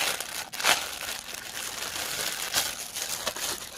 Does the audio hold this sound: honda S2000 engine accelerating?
no